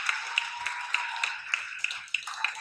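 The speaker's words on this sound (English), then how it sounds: "Not exactly a full room of clapping." Sparse clapping from a small audience in a room, a few isolated hand claps spaced irregularly rather than a full round of applause, with a faint murmur underneath.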